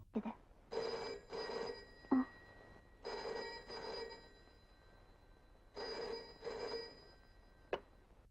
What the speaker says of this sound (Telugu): హైదరాబాద్లో మా ఇంట్లో ఓ అర్ధరాత్రి ఫోన్ మోగింది